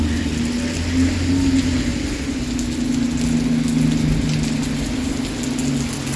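Rain falls at night on a Halifax street, a steady, even hiss of drops with occasional sharper patters close by, under a low steady hum, with no talk.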